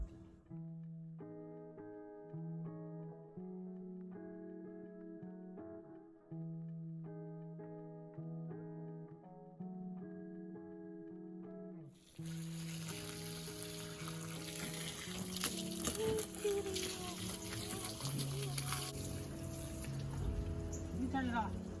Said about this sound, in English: So now we're gonna get the water,